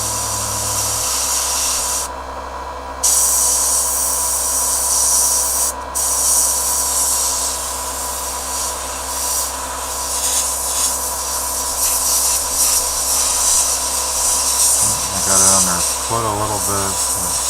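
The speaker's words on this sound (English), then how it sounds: "As thin of a coat as it does with the airbrush and the atomizing" An airbrush sprays paint onto a tabletop fantasy miniature, giving a steady close hiss that runs almost the whole time with brief pauses, and a voice speaks briefly near the end.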